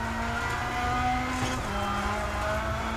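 Car engine revving hard under full throttle in a driving video game, a steady loud roar with shifting engine tones throughout.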